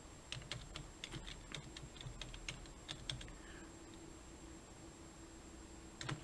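Quiet keystrokes tap out a search on a computer keyboard, a quick irregular run of light clicks in a hushed room, pausing midway before a few final taps.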